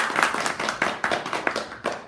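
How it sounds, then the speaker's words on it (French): A small audience claps in quick, uneven bursts, individual hand claps distinct and close, continuing briskly for a couple of seconds without talk. "On l'applaudit!"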